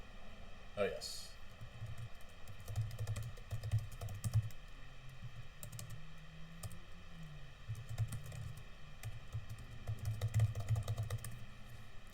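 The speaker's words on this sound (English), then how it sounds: "I hope this is typing." Computer keyboard keys clatter in quick, irregular runs of close taps throughout, with a person talking over the typing.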